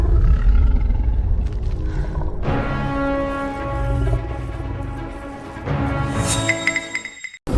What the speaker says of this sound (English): the wind pressure from his roar nearly knocked me over